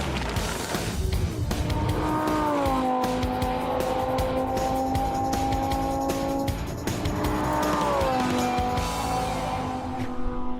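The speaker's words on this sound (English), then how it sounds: "Matt buckled up in his flaming orange Lamborghini LP 550 that reaches 201 miles an hour" An orange Lamborghini LP 550 sports car roars at speed, its engine whining upward through gears in long rising sweeps, loud and close throughout with a brief dip before climbing again.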